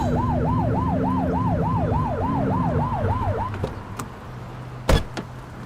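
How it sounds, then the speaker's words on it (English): A police car siren in the video game The Precinct wails in rapid rising-falling cycles for about three and a half seconds over engine rumble, then cuts off, followed by a few sharp clicks and a loud brief burst. "Get behind them and blip the siren to make them pull over."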